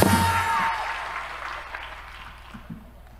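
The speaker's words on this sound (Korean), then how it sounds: "고맙다고 다시 한번 박수를 보내주시면 고맙겠습니다" Audience applause at a rally-style gathering at a church in the US, a dense wash of clapping that starts strong and slowly fades over a few seconds.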